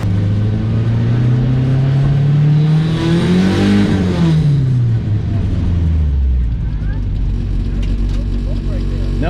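A rear-wheel-drive turbocharged Honda Civic accelerates hard on a test drive, its loud engine rising steadily in pitch, peaking, then dropping as it shifts and climbs again, droning continuously throughout.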